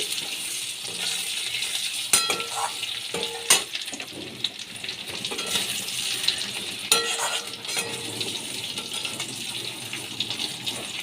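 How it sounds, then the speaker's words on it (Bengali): Potatoes frying in oil left over from frying fish, cooked with onion and garlic: a loud, continuous sizzle close up, with a few sharp clinks of a utensil stirring, and no voices. "আলুগুলো ভেজে নিচ্ছি"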